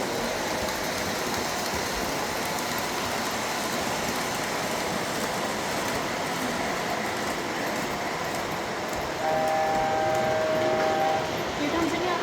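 A model train runs steadily on an interactive miniature railroad set at a railroad museum, giving a continuous dense rattling rumble, with faint tonal squeals near the end and voices talking over it.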